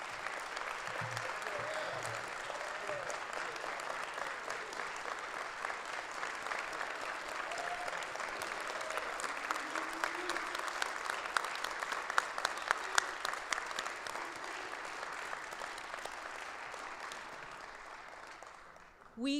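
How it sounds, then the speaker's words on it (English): A long round of audience applause for orators at a Morehouse College forum, many hands clapping steadily at moderate volume with some voices mixed in, swelling slightly midway before tapering off. "Please, a round of applause for our orators."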